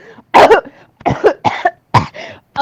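A person coughs several times in quick, harsh bursts with short pauses between them, close up and clear.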